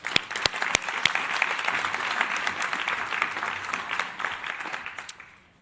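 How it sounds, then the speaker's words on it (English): A crowd at a high-level meeting on women's, children's and adolescents' health applauds steadily for several seconds, dense clapping with a few sharp claps standing out, then fading quickly at the end. "Please, a round of applause."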